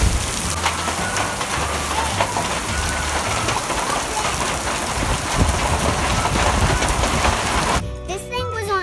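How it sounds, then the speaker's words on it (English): Steady heavy rain pours down on a farm in a dense, continuous hiss, with a brief burst of a voice near the very end. "Look at all this rain."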